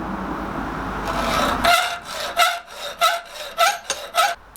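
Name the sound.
cutting the knuckles of a metal hasp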